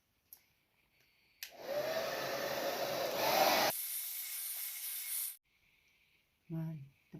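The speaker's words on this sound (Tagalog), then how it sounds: "tapos na ako mag-blower" A hair dryer blows in a home after a shower, switching on abruptly and roaring steadily for about four seconds before cutting off. Brief quieter rustles come before and after it.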